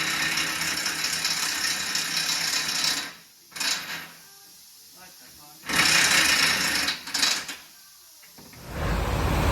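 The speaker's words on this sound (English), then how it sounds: "We're just gonna unbolt the cone and pull it out to see underneath." A power tool rattles in loud, close bursts while unbolting a cone from an adapter plate during a breakdown repair, with two long runs and a few short blips separated by quieter gaps, with voices in between.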